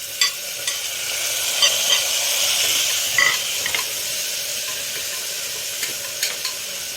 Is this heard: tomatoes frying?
yes